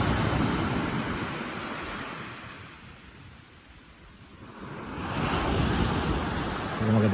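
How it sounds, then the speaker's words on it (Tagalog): Strong ocean waves at a beach in Sagñay, Camarines Sur, churned up after a storm, a broad rushing surf roar that swells loud, eases into a quieter lull, then builds again, with wind buffeting the microphone. "Medyo malakas yung alon."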